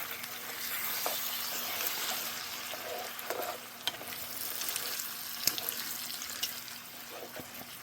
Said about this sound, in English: Our heat is on low to a simmer.